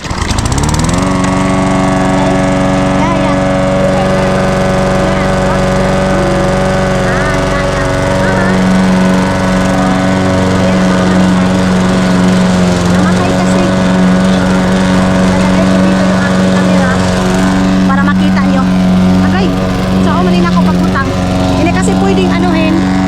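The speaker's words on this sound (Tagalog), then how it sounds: "Mag-grass cutter." A grass cutter runs steadily and loudly close by for the whole stretch, its engine drone holding an even pitch with slight wavering. Voices talk faintly over it.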